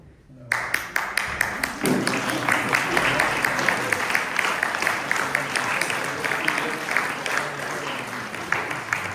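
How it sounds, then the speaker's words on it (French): Audience applause fills a lecture hall in Montpellier after a talk, dense steady clapping from a large crowd that starts abruptly and carries on evenly throughout, with a few sharper claps standing out near the front. "c'est vraiment les applaudissements"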